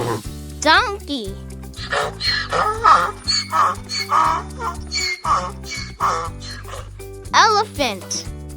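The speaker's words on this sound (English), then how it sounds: "donkey," A donkey brays in a run of rough, choppy, rhythmic honks over backing music, with a brief bright voice at the start and end.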